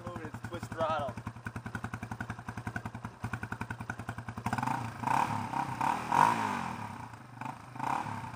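A 2001 Yamaha Warrior ATV fitted with a K&N intake idles close by in a steady, rapid single-cylinder putter, then revs up into a louder, rougher roar with fluctuating throttle.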